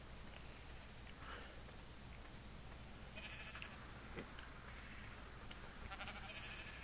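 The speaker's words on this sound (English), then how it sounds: "Stupid sheep" Sheep bleating in the Ark Ragnarok video game, several short calls scattered over a steady ambient game backdrop with soft footstep-like sounds, no talking.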